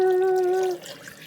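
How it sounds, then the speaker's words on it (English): Three cups of water poured into a blender jar while making aloe citrus juice with ginger and turmeric: a loud, steady, ringing pour lasting under a second, then stopping abruptly into quiet room tone. "now I'm gonna pour, I have 3 cups of water"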